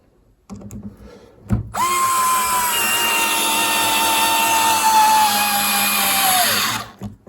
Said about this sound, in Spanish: todos los tornillos los podríamos meter en serie a la misma distancia, a la misma altura, trabajando en esa misma posición